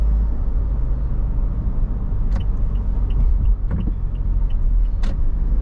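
A car cruises on the Skyway elevated expressway in the Philippines, a steady close road rumble and engine drone continuing throughout, with a few faint clicks over it.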